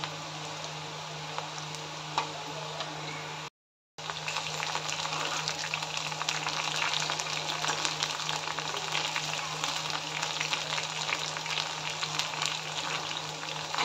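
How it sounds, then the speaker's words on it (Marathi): Okra (bhindi) fries in hot oil, a steady, close sizzling hiss with fine crackling that runs continuously, broken only by a brief silent gap early on. "भेंडी टाकताना एकदम खुले खुले टाका, म्हणजे भेंडी व्यवस्थित फ्राय होईल।"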